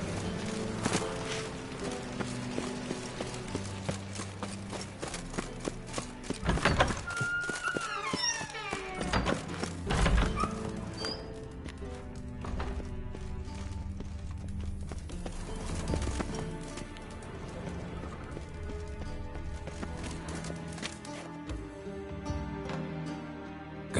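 Hoofbeats from Roach, a horse in a PS4 video game, form a rhythmic clip-clop under a dense game soundtrack with music, occasional heavier thuds and a brief whinny-like cry.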